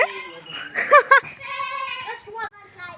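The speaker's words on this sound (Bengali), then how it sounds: "ছোট্ট ছোট্ট কিউট কিউট সাদা দুইটা ছাগলের বাচ্চা, সাদা আর কালো" High, wavering bleats from two small young goats, one white and one black, close by and repeated, mixed with a person talking.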